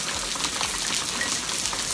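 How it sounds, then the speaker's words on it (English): Heavy rain pours down in a dense, continuous hiss, loud and unbroken, with no voices. "it's honestly pouring right now"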